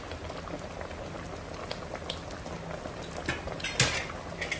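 Achara soup boiling in a pot, a steady bubbling simmer with soft popping and a faint clink of utensils near the end, close and continuous.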